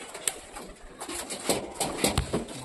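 Pet pigeons coo close by in a soft, continuous murmur, with a few sharper bird calls rising over the steady cooing.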